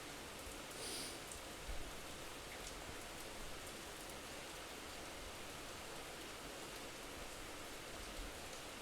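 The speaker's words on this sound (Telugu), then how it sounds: "బయట వర్షం థండర్స్ వస్తున్నాయి గైస్" Steady rain falling outdoors, a faint continuous hiss that stays even throughout with no distinct thunder rumbles.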